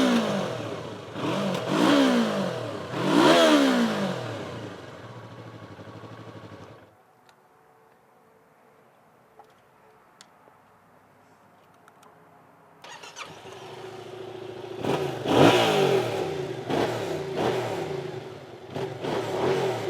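Yamaha MT-03 and MT-07 motorcycle engines starting and revving close up: repeated sharp throttle blips rising and falling, a quiet idle pause in between, then another burst of loud revving from the second bike.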